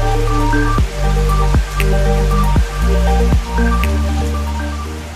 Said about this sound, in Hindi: बाहर देख सकते हो कितना जोर से बारिश आया है